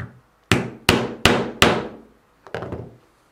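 A hammer strikes a stitching chisel (pricking iron) through leather to mark a seam line: four sharp, evenly spaced blows, then a pause and a quicker, lighter strike cluster, close and loud in a quiet room.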